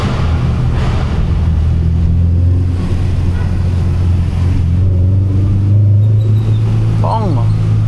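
A 2000 Honda Civic SiR with a full exhaust drones and rumbles steadily during a rainy night drive in Quezon City, close and loud, while someone talks over it throughout.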